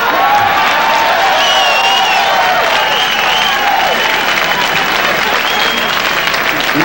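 Loud, sustained applause from a large crowd, with cheering and scattered voices mixed in, continuing steadily throughout.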